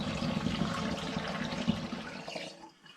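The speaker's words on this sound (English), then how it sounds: "So there goes 2 litres of water into it" Two litres of water pour steadily into an Air Still Pro during gin making, a close, continuous gushing splash that tapers off and stops near the end.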